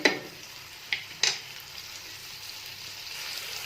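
Onion, garlic and a small piece of ginger frying in a pan for garlic chutney, a steady soft sizzle with a few sharp spatula scrapes near the start, no voices.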